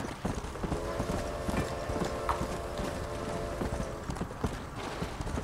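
Rhythmic clip-clop of horse hooves trotting steadily at close range in the video game Red Dead Redemption, with a faint sustained tone in the background and no talking.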